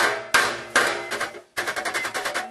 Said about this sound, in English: This is a flatter end of the dolly, so I'm backing it with that and hitting this edge with this hammer.